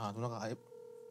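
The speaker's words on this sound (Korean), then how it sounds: "아, 전화 한번 해볼까요 지금?" A phone line during a call, a short steady electronic tone following a brief burst of speech, heard quietly and close.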